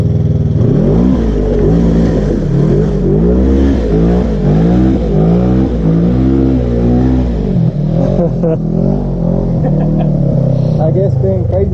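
An off-road vehicle's engine revs hard and loud at Windrock off-road park, rising and falling in steady surges throughout, with people talking over it.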